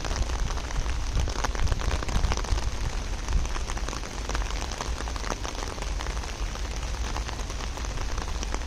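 Heavy rain pours through Batignolles Cemetery among rows of crosses, a loud, unbroken, close-up wash of drumming drops with some wind and no talking.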